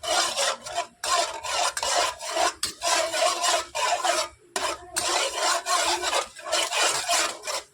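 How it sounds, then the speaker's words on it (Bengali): Spices and white mustard seeds stirred in a pan, giving repeated raspy scraping strokes in steady bursts with short pauses between them, close and fairly loud with no talking. "মশলাগুলোকে এবার একটু নাড়াচাড়া করে নেব।"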